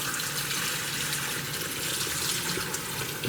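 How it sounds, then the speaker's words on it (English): Water pours steadily out of a bowl holding pomegranate seeds, a continuous close splashing gush filling the whole moment without voices. "Now I'm going to start dumping my water just so I can get the rest out easily."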